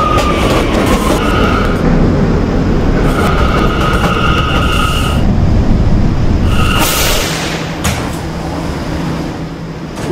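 A five-car SOAC/R179 subway train in the Roblox game PTA Subway rumbles along the Fifth Av lines, a loud steady roar of wheels and track with recurring tonal chimes and a rush of air, no talking.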